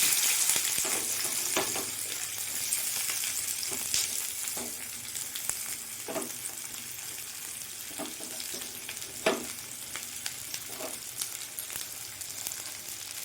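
Chopped onion frying in hot oil with whole cumin for Bengali masala khichuri, a steady close hissing sizzle with occasional stirring scrapes and pops, no voices.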